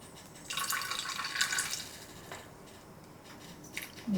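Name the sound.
spoonful of bacon grease poured into green beans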